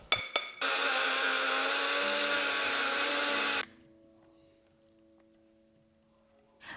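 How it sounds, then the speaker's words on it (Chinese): A blender grinds almond flour and sugar for macarons with a loud, steady whir for about three seconds, then cuts off abruptly into near silence with a faint lingering hum. "没能过筛的大颗粒可以放入搅拌器里再搅拌"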